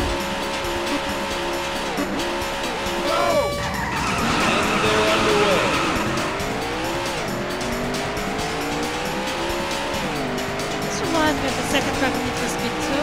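Race cars in the arcade racing game Daytona USA roar with rising and falling engine pitch while tires squeal and skid through corners, loud and close, with a voice heard briefly over the action.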